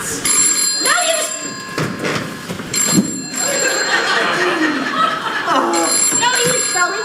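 A telephone rings on a theatre stage during a live performance of the farce Noises Off, sounding in three separate bursts of bright bell tones while actors keep talking and moving over it.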